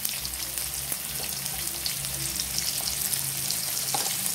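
Bata fish pieces coated with salt and turmeric frying in hot oil, giving a dense, steady bubbling sizzle with a few soft pops, close and continuous throughout, with no voices.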